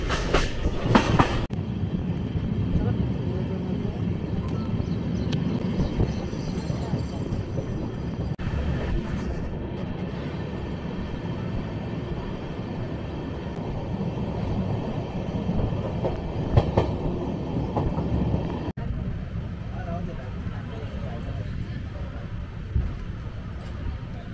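A Konkan Railway passenger train on the new service from Bandra Terminus to Madgaon rolls along steadily, with continuous rumble and clickety-clack of wheels heard from inside the coach, loud and close throughout.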